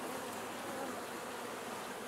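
Honey bees buzz faintly and continuously at an open hive during a colony split, a soft steady hum with no voices.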